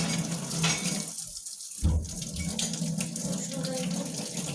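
Tap water runs steadily into a kitchen sink while tomatoes are washed under it, a close, continuous splashing rush that breaks off for a moment partway through before resuming.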